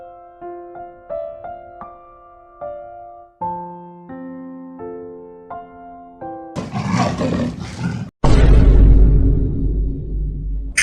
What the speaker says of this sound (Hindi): किसी जंगली जानवर की आवाज थी